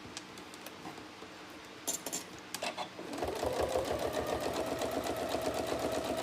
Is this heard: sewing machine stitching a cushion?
yes